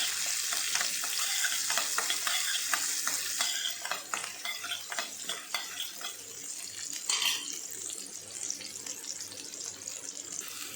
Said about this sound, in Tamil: இப்போ வெங்காயத்தை முதல்ல சேர்த்துக்கலாம். கொஞ்சம் நிமிஷம் நல்லா வதக்கிக்கலாம்.